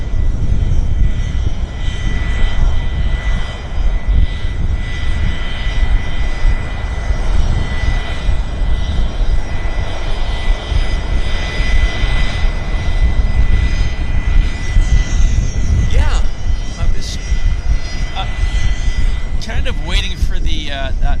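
Business jet at Vancouver airport, its engine a steady loud roar throughout at moderate distance, with airport ambience around it.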